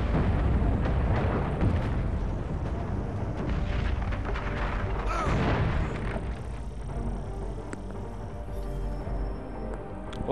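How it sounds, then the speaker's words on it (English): A huge explosion in the video game Assassin's Creed 3 fills the clip with a loud, sustained roaring rumble and crackling debris that slowly thins toward the end. "Oh, a huge explosion."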